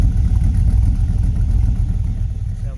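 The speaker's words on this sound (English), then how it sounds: "You can hear the fuel injectors popping in there." An old black truck engine, refitted with modern fuel injection, idles with a steady, loud low rumble and a rough exhaust burble, its fuel injectors popping faintly inside the continuous drone.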